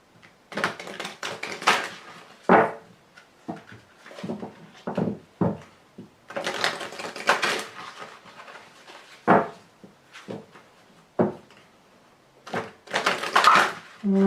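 A deck of oracle cards is shuffled and cut by hand, giving bursts of riffling, flapping card noise separated by short pauses, close and fairly loud, with a quiet voice occasionally in between.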